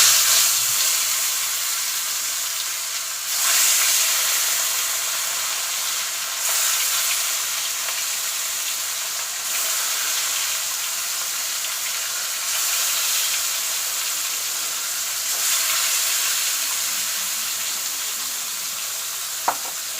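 Large fish, rubbed with salt and spices, frying in hot oil in a home kitchen: a steady, loud sizzle and hiss that swells briefly every few seconds as pieces are moved or added, with no talking.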